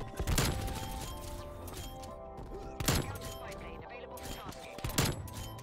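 A 1911 pistol fired in a shooter game cracks out as three sharp, loud shots spaced a couple of seconds apart over a background of ringing game music, with someone talking between them.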